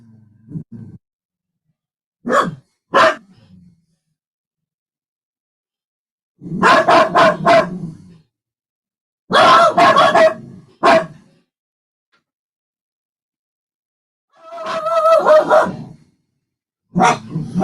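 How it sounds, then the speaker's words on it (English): Dogs inside a house bark in loud, close bursts, single yaps and rapid volleys separated by stretches of silence, with no talking. "I apologize for the dogs."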